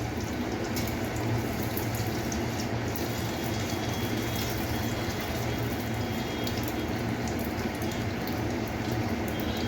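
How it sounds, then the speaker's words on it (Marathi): Pani puri dough fries in hot oil, giving a dense, even sizzle that runs loud and unbroken from start to finish with no voices. "तर अशा प्रकारे आपण तळून घेत आहोत."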